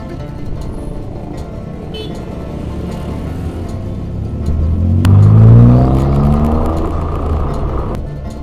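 Traffic hums along Jalan Mandiangin in Bukittinggi, with a steady wash of passing cars and motorbikes, then a nearby engine revs up and passes close by, loud and rising before settling back.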